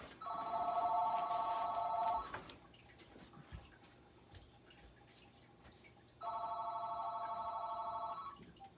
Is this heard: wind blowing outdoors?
no